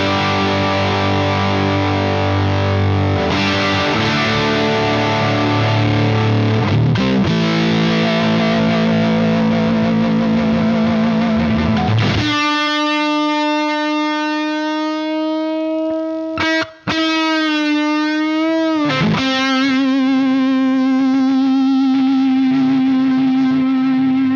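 An electric guitar drives an Electro-Harmonix MIG-50, a 50-watt Bassman/Plexi-style tube amp, first in thick, dense distorted chording, then in singing sustained lead notes with bends and a brief break, loud and continuous.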